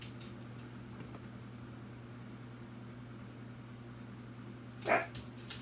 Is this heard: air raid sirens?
no